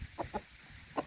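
A fighting rooster gives three short, sharp clucks, spaced irregularly across roughly a second, moderately close and standing alone against a quiet background.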